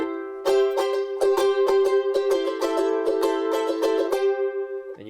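A charango, a high-pitched ten-stringed Bolivian instrument traditionally made from armadillo shell, is strummed in a quick rhythmic pattern of bright repeated chords, clear and close with no voices.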